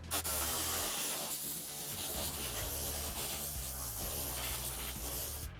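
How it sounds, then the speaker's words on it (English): A compressed air gun blasting water off car wheels during a wash and detail, a loud continuous close hiss with shifting spray and rubbing texture that cuts off abruptly at the end, no voices. "not everybody has access to a compressor and an air gun, but if you do, it's a great addition"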